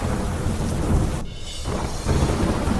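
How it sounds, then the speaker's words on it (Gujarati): Heavy rain pours steadily in Aravalli district, Gujarat, with deep, rumbling thunder rolling underneath; the roar drops briefly in the middle before surging back. "અરવલ્લી જિલ્લામાં ધોધમાર વરસાદ"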